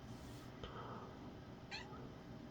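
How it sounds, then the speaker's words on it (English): A pet cat meows twice, faint and nearby: a short call, then a longer rising one about a second later, over a soft room hiss. "my cat is demanding my attention for some reason"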